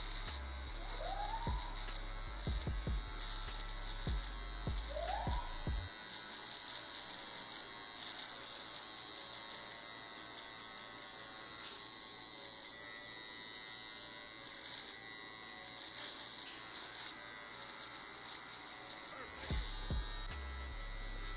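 An electric hair clipper buzzes steadily while cutting a skin fade, with a faint motor hum running under soft handling noises and a few short clicks near the start and end, with no talking.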